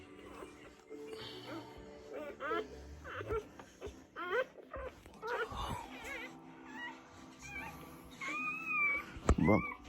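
Newborn puppies give faint, high-pitched whimpers and squeaks during their mother dog's labor, scattered through the scene amid quiet rustling and occasional low human talk.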